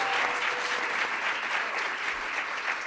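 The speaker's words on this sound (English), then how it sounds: "Please give them one more round of applause." An audience gives a panel a dense, continuous round of applause, steady and fairly loud throughout the short stretch, with no voices over it.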